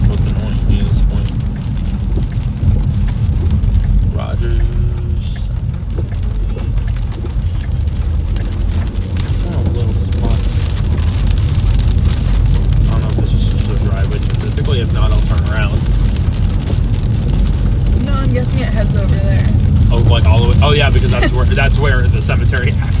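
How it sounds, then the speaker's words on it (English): Steady rain drums on a storm-chasing car during a December storm, a dense, continuous patter and rumble that fills the whole stretch while people talk inside the vehicle. "I need this little band of rain to go away"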